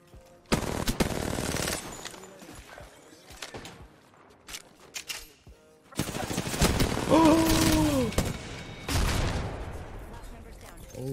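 Bursts of automatic gunfire crack out in a first-person shooter match, rapid clustered shots that come and go across the stretch with a louder barrage in the second half, and a player talks over parts of it.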